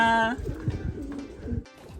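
Racing pigeons coo in a low, repeated murmur after a long-distance 640 km race, with a bright bird call at the start and people talking over it throughout.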